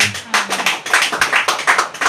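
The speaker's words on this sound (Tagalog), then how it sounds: "Pumalakpak po ang nadadagdagan at nabibigyan." A church congregation clapping during a sermon, with a quick run of sharp, rhythmic claps that are close and loud and keep a steady pulse from start to end.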